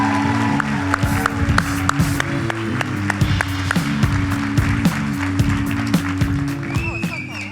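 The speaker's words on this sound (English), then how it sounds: "Give them a round of applause" An audience claps in welcome for a DE&I committee panel at an event, with sharp individual claps standing out over a steady low hum of music or room noise, moderately loud throughout.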